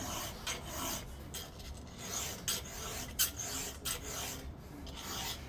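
Chainsaw chain sharpened by hand with a file, giving a steady close rasping scrape of repeated strokes, soft and even, with no talking.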